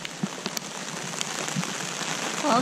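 Rain patters steadily on surfaces during a walk to the Whangarei Quarry Gardens in New Zealand, a dense even hiss of drops with a few closer taps, no voices.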